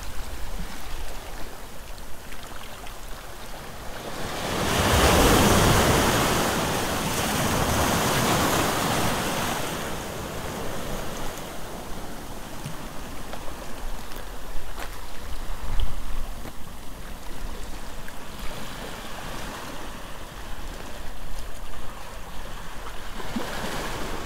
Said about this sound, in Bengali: এই একটা ঢেউ, ছোট ঢেউ এটা।